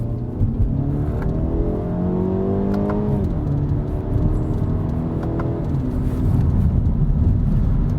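A 2020 BMW 228i xDrive Gran Coupe engine drops through gears, its pitch falling and rising again with each shift over a steady roar of road noise.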